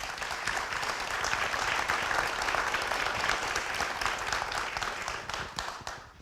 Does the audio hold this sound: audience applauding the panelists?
yes